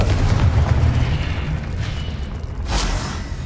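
A Confringo spell blast from Hogwarts Legacy, a loud low booming explosion that rumbles through the first seconds and then swells again with a second burst near the end.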